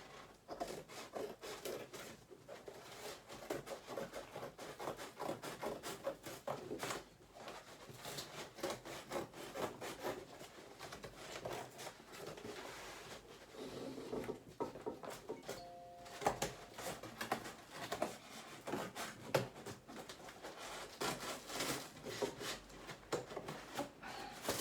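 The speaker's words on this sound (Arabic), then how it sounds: "غادي نضطر باش نقطع الكرتون" A cardboard gift box is sawn and cut open by hand, making a long stretch of close, continuous scraping, rasping and tearing with irregular rhythmic strokes and a few brief knocks.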